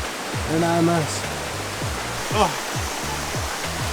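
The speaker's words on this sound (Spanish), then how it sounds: "Esto según por el sonido que emite el agua al pasar por las piedras y su camino." The Cupatitzio river rushes over stones in Barranca del Cupatitzio National Park in Uruapan, Michoacán, making a loud, steady roar that runs throughout, with a person speaking briefly near the start.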